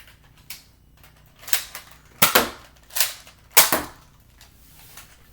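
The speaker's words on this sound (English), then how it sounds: "Now I shot darts." Nerf toy blasters fire foam darts, five or six sharp snapping shots spaced about a second apart, close and fairly loud against a quiet background.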